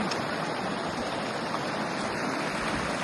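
Ganges water stream flowing along the Mount Kailash kora, a steady, loud, continuous rushing and gurgling that fills the whole moment without any voices.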